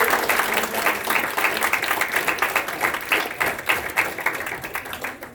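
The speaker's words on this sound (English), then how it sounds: "Can we give our volunteers a big round of applause?" Audience applause for volunteers during a public speaking workshop, a steady room of hands clapping with dense, even patter throughout, fairly close and sustained with no talk over it.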